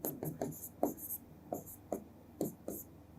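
Chalk or marker strokes on a classroom board while a maths teacher works through a Pythagoras theorem problem, a string of short scratchy taps and squeaks in an uneven rhythm, close and moderately loud.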